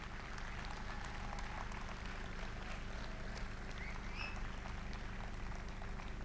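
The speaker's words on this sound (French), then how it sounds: "je vous demande de les applaudir très fort" Crowd at a sports awards night applauding after a sports demonstration, a steady, distant roar of many hands clapping in a large venue, continuous and even.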